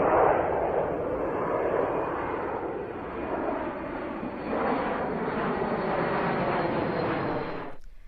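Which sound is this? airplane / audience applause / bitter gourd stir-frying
airplane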